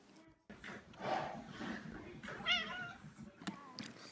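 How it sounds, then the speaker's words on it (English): A pet cat meows a few times from inside a big toy box being opened, close and moderately loud, with soft rustling around it. "Hi, kitty."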